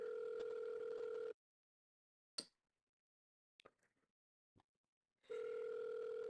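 A steady telephone call tone sounds loudly, cuts off into near silence broken by a few clicks, then resumes as the call forwards to voicemail.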